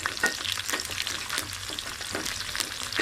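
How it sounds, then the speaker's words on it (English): Sliced onion sautéing with mustard and cumin seeds in a pan for a paneer beans curry, with a steady close crackling sizzle and occasional stirring scrapes throughout. "immediately put onion, sliced onion, and saute it well"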